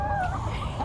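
A person imitates a grown-up chicken, giving a short, clucky vocal call with wavering tones, close and fairly quiet, lasting under a second.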